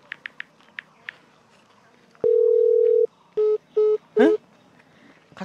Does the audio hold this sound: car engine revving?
no